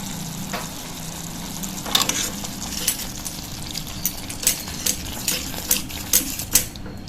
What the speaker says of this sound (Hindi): और अब हम इसमें थोड़ा पानी डाल देंगे।